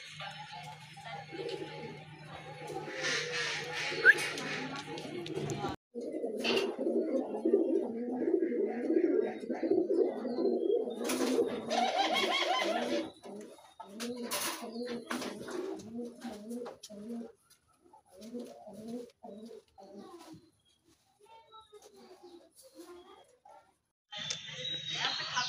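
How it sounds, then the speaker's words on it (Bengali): A pair of pigeons at a pigeon farm coo in soft repeated throaty bursts, with people talking over and between the calls. "খুবই চমৎকার এক জোড়া কবুতর।"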